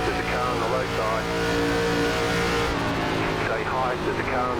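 Race car engines in an ARCA stock car racing game at Charlotte hum in a steady, loud, continuous drone, with several cars running together and pitch sweeps as they pass, and a voice speaking over the engines.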